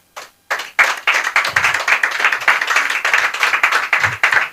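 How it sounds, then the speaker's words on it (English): An audience at an event breaks into clapping, starting with a few scattered claps and swelling into steady, fairly close applause from a small group that continues for several seconds. "make sure people clap 10 times"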